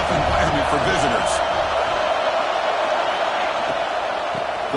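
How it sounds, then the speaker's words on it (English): Steady crowd roar fills the stands at an NCAA football game, a dense continuous wash of noise heard throughout with no clear breaks. "Listen to the crowd energy here in the early going."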